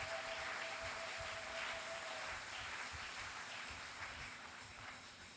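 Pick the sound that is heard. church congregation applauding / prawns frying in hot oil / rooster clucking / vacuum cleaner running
church congregation applauding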